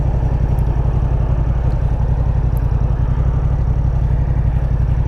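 A Yamaha MT-07 twin with a 270-degree crank and a full aftermarket exhaust system idles in a steady, loud, close grumbling pulse that holds evenly throughout, with no voices.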